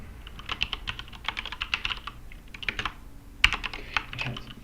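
Close, fairly quiet typing on a computer keyboard while coding, irregular bursts of key clicks with brief pauses and one sharper keystroke, no talking.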